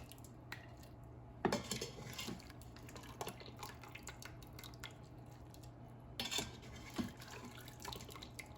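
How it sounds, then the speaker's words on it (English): Utensils clink and scrape against an Instant Pot while seafood medley is lifted out, giving a few sharp metallic taps and quieter scraping, close but fairly faint over a low background hum. "Now let me remove it from the Instant Pot."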